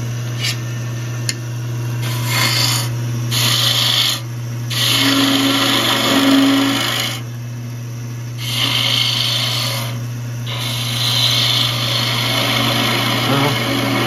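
A slightly out-of-round wood blank spins on a lathe with a constant motor hum and a rhythmic wobble, while a detail gouge scrapes intermittently. Voices talk over the steady machine sound.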